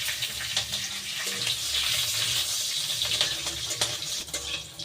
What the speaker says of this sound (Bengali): এবার এই তেলের মধ্যেই দিয়ে দিচ্ছি কালো জিরে,